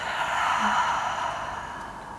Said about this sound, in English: Closing by taking a breath in all together, and a smooth breath out.